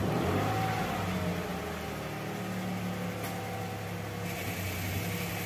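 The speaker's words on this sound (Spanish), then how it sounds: "voy a arrancar y vais a ver lo poco que tarda en cambiar de gasolina a LPG" A Dacia Sandero running after a start as it changes over from petrol to LPG, a steady close engine hum and whir at idle with no clear change in tone, holding even for the whole stretch.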